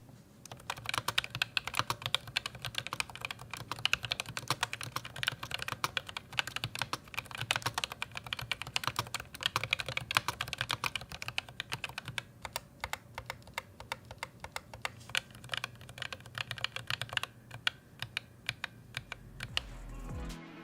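Fast, continuous typing on a ROG Claymore II mechanical keyboard with RX Blue switches, a dense clatter of clicky keystrokes heard close up and alone, without pause for about twenty seconds.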